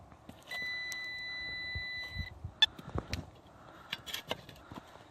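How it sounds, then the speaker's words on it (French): A metal detector held over a buried target in hard soil gives one steady, high electronic tone for about two seconds, then stops. Faint scraping and clicking digging noises follow. "Il y a un bon petit son à son détecteur."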